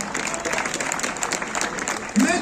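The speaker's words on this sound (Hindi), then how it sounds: "तालियां बजा दो भाई अपने लिए" Steady crowd applause at a prize distribution ceremony for a Delhi state school volleyball championship, a continuous patter of many hands with a voice speaking over it near the end.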